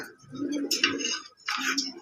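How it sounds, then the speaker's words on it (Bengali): A pair of fancy pigeons, a male and a female with a chick, coo in a loft at close range. Low, rolling coos run almost without a break in two stretches, with brighter fluttery sounds on top. "এখানে আরেক পেয়ার কবুতর দেখাচ্ছি আপনার"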